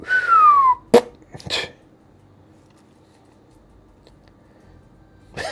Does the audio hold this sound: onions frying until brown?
no